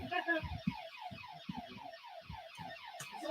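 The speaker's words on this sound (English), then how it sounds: "That's our alarm gone off." A building alarm sounds in a steady series of repeating falling electronic tones, loud and continuous, during a live football watch-along broadcast.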